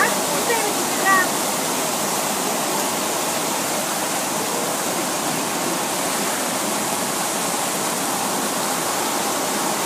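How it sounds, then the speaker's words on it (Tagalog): Floodwater rushes loudly and steadily during monsoon flooding in a residential area of Bacoor, Cavite, a dense broadband roar that fills the whole clip with little change, with brief faint voices near the start. "Ang bilis tumaas ng tubig."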